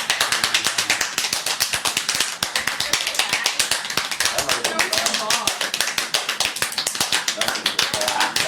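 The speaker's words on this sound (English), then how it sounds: "a side-by-side sudden death clap off" Rapid, dense clapping from a side-by-side sudden-death clap-off on a live reality stream, sharp claps packed into a fast continuous rhythm, close and loud for the whole stretch.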